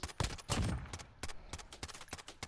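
Rapid bursts of gunfire from the video game Call of Duty Modern Warfare, a series of loud sharp shots in quick succession, some clustered together and others spaced out, with no talking.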